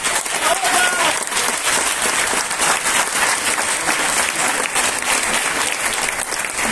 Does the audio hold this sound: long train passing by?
no